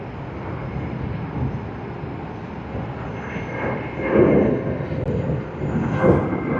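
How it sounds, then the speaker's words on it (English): A Qantas Boeing 787-9 Dreamliner arrives from Melbourne at Sydney Airport, its engine roar a moderate, distant broadband wash that swells briefly a couple of times as it comes in. "this aircraft is the Boeing 787-9 Dreamliner of Qantas, coming in from Melbourne"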